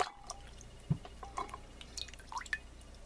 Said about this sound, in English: that's all I'm going to do is just a good dunk in water